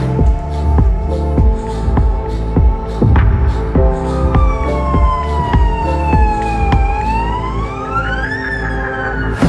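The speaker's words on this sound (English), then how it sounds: "Is this the African ambulance?" A loud ambulance siren in Africa wails close by, its pitch sweeping down and back up, over a rhythmic engine throb.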